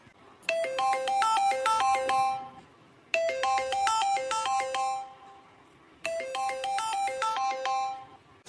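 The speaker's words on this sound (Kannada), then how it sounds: "ಫೋನ್ ಬತ್ತಲ್ಲ ಯಾರ್ದು." A mobile phone ringtone plays a short bright melodic phrase three times in a row, each repetition separated by a brief break, steady and clear with no one speaking.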